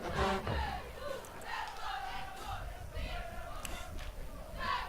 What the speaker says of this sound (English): The Tigers cheerleaders in the background cheering them on.